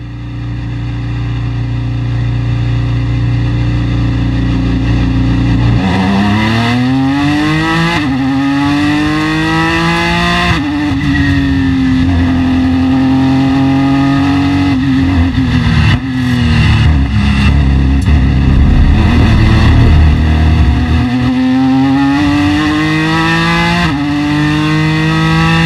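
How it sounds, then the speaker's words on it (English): A 2016 Ford GT race car accelerates hard out of the pit box at Le Mans. Its engine roars loud and close, the tone climbing repeatedly through gear changes and barely dipping between shifts. "As I accelerate away from the pit box"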